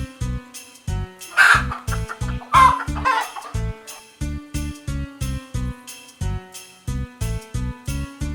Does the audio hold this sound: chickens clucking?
yes